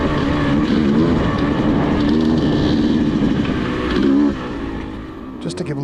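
A 2023 Beta 200 RR Race two-stroke dirt bike rides singletrack, its engine droning loud and close with steady throttle and a brief drop in revs near the end.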